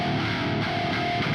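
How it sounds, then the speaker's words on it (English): A heavy 8-string electric guitar tuned an octave low, played dry with no effects, gives a dense, sustained, loud chugging tone that fills the short span. "The guitar sounds like this with nothing else on it."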